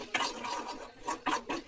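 A spoon stirs and mixes curry masala, pepper and turmeric powders in a pan for egg chukka, a few close scraping, rasping strokes in an uneven rhythm.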